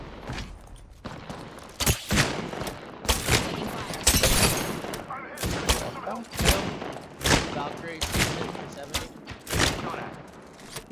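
Apex Legends gunfire: rapid bursts of shots and repeated sharp cracks, loud and close, going on throughout with some quieter gaps, mixed with excited player voices.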